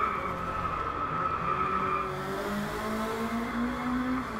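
Jaguar C-X75 hypercar in the racing game Driveclub, its engine note climbing in pitch as it accelerates hard, with a high whine and a rising tone, loud and continuous.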